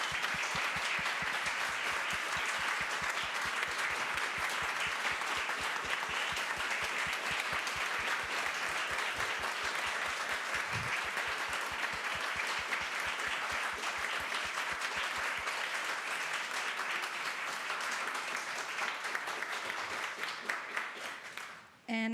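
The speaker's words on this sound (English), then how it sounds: "Invite you to one final round of applause" Sustained applause from a church congregation at a Sunday Unitarian Universalist service, a dense steady wash of many hands clapping for about twenty seconds before tapering off near the end.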